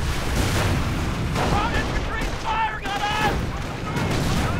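Bazookas and Panzerschrecks fire a volley in the World War II strategy game Company of Heroes, a dense, continuous barrage of loud booms and blasts with whistling projectiles, running throughout with a faint voice underneath.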